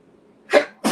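A person gives a sharp, close sneeze, preceded by a faint breath and quickly followed by a second explosive burst, loud and alone with no talk.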